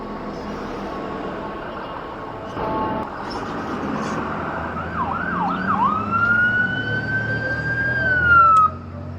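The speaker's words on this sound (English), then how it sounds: "I hear ambulances. I hear sirens." An ambulance siren wails nearby, sweeping up and down before holding a long rising tone, over street noise and distant traffic.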